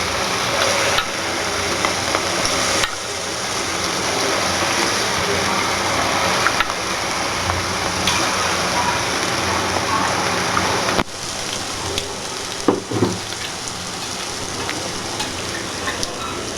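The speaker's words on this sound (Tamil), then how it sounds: "இப்போ வந்து நம்ம போண்டாவை வந்து நம்ம போட்டுப்போம்." Idli batter bondas dropped into hot oil and deep-frying, giving a continuous dense crackling sizzle like steady rain, with a few faint clinks and a brief shift in the middle.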